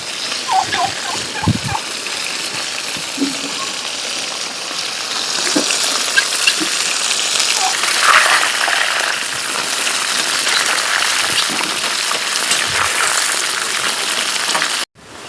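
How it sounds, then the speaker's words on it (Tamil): Mushrooms frying in a pan give off a steady, loud hiss and sizzle with scattered pops and crackles, ending abruptly. "மஷ்ரூம் நல்லா ஃப்ரை ஆயிடுச்சு, எடுத்துக்கலாம்."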